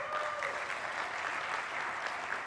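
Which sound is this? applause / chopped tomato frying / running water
applause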